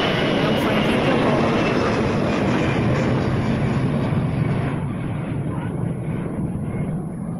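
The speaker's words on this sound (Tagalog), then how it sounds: "malapit lang ang airport dyan sa Taipei. So, palagi na dumadaan yung eroplano." An airplane flies low overhead near Taipei airport above a rose flower garden, a loud, steady engine roar that fills the whole stretch and slowly fades toward the end.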